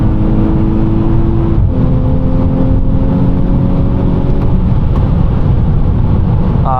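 Volkswagen Scirocco R accelerating, a loud, steady engine drone with a low rumbling body and a slight shift in pitch partway through, heard from inside or close by with no talk.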